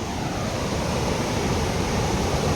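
Sea waves roll onto the shore in a continuous, loud, even roar of surf that fills the whole moment, with no pauses and no voices.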